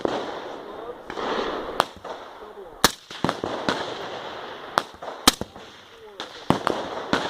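Shotgun firing alternating slugs outdoors, several sharp loud reports spaced irregularly across the stretch over a steady background noise, with no talking between shots.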